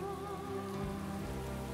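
Rain pours steadily in an animated cartoon, a close, even patter over soft background music, with no voices.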